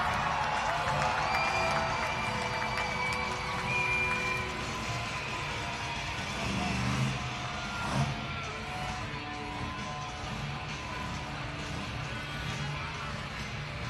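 Monster Jam arena crowd in Wichita, Kansas, cheering and roaring steadily as a dense wash of applause and whoops, with a loud rumbling swell around the middle and no clear single voice on top.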